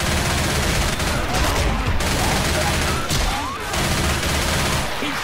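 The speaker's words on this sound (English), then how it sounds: "He's shooting." Rapid gunfire bursts in the zombie shooter game Left 4 Dead 2 on the Dark Carnival highway level, loud and dense throughout with overlapping shots.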